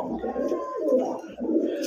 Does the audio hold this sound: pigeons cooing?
yes